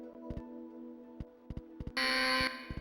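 Buzzer in a SEGA Saturn video game, a bright harsh electronic tone lasting about half a second among repeated short rhythmic game blips over a steady droning music bed, fairly quiet.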